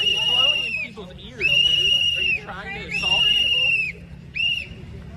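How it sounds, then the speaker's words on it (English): A whistle is blown at a public gathering in four loud, shrill blasts of about a second each, separated by short pauses, with crowd voices beneath. "people can choose to yell or blow a whistle in a public place as well"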